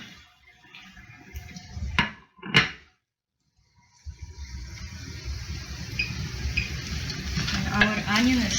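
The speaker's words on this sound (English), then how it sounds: "And our onion is sizzling." Onion sizzling in a frying pan while pierogi are being cooked, a steady broadband frying hiss that builds from about four seconds on, after a few brief clatters and a short pause near the start.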